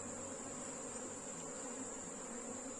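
Honey bees swarm around an open wooden hive box while frames are moved, making a steady, dense, close buzzing drone that continues without a break and with no voices.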